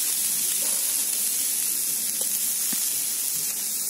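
Sago poured into a pan of fried vegetables gives a steady, loud sizzling hiss, with a few soft ticks and clinks while it cooks, and no voices.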